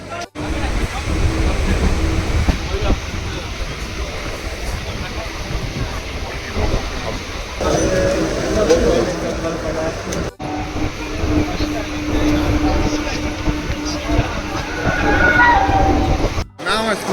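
A train at Howrah station rumbles and clatters steadily, with loud station noise and a few sharp breaks, while people talk over it.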